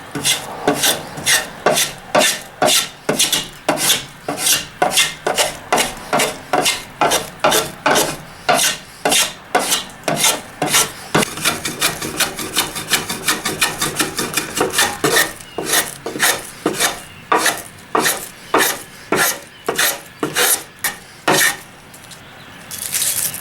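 A Japanese compass plane, a sori kanna with a curved sole, takes repeated shaving strokes across a piece of wood, each pass a crisp rasping swish in a steady rhythm that quickens midway, close and alone without talk.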